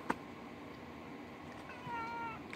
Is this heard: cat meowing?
yes